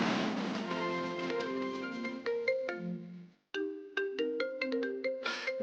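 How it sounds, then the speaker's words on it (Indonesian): A phone ringtone plays a bright, melodic electronic tune, ringing loud and alone in repeated phrases with a brief pause before the melody starts again. "Ngapain sih nih Elsa nelfon gue lagi?"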